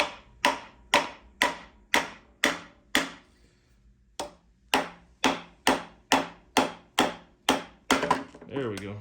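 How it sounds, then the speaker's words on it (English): The back of a hammer strikes snug motorcycle handlebars to knock them loose, a run of about eighteen sharp, evenly spaced metallic thwacks with a brief pause partway through, close and loud. "We're gonna backside of a hammer here."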